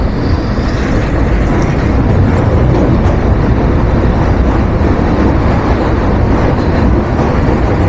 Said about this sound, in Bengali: প্রবেশ করে গেলাম ঘাটিনা রেলওয়ে সেতুতে।